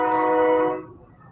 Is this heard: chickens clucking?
no